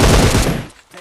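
Gunfire from an enemy shooting from behind in PUBG Mobile, a loud, close burst of rapid automatic shots that cuts off abruptly into near silence.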